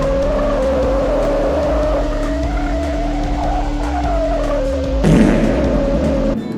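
Racing cars in the PS1 video game Test Drive 4 hold a loud, sustained engine drone with rising pitch, then a burst of tire skidding near the end.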